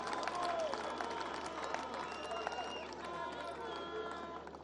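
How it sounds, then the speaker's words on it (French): A crowd at a university inauguration ceremony in Kananga applauds the builders, dense clapping mixed with shouts and cheers that holds steadily throughout. "je vous prie d'applaudir ces grands artisans affectueusement"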